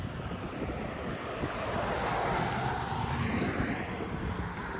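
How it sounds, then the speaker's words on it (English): Traffic on a busy mountain road at Neels Gap on the Appalachian Trail, a continuous broad rushing roar of passing vehicles that swells slightly in the middle, with no voices. "It's a busy road."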